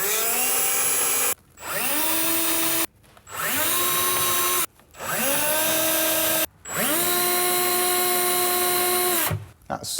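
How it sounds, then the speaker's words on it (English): A power drill bores pilot holes for screws into a cabinet for a soft-close pull-out larder, in five long whining runs that spin up, hold steady and cut off abruptly, loud and close. "put your pilot holes in place for your screws on all of the red spots"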